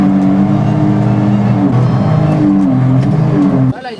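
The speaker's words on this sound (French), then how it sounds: "Voilà, il accélère bien." A 300 hp Seabreacher shark-shaped boat's engine revs loudly and close, a strong rising and falling drone for several seconds before abruptly cutting down near the end.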